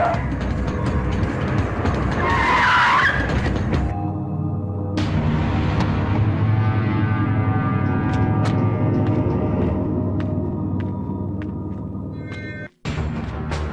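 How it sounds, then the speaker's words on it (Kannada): A vehicle brakes hard to a stop, tires squealing briefly over a loud rumbling engine, then idles on with a low steady drone before a sharp thump near the end. "ನಿಲ್ಸೋ ಗಾಡಿ, ಇಲ್ಲೇ ನಿಂತವ."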